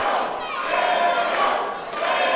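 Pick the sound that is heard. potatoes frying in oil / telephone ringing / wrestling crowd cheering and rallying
wrestling crowd cheering and rallying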